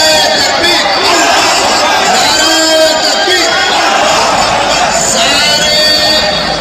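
Large crowd gathered to lay a mosque foundation in Bengal, a dense continuous babble of many voices, loud and close, with a single voice speaking over the crowd noise.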